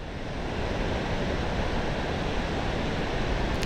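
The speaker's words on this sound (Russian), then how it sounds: "Редкий случай, когда водопад можно наблюдать свысока." Sultan waterfall on the Jily-Su road, heard from high above as a steady, dense roar of rushing water mixed with wind, continuous and fairly loud throughout with no voices.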